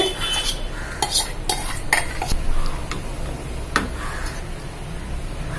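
A spoon stirs a fenugreek leaf curry with ground lentil, onion and tomato paste in a pot, giving close clinks and scrapes in an uneven rhythm against a soft background hiss.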